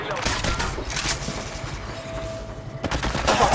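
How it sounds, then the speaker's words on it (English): Incoming gunshots aimed at the player in Apex Legends, a dense rattle of rapid fire with a short lull and then a fresh burst, fairly close, with game voice effects mixed in. "Shots fired at me."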